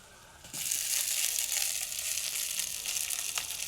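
Onions, tomatoes and green chillies sautéing in oil in a pan, a steady close crackling sizzle that jumps up suddenly and then holds at an even level throughout.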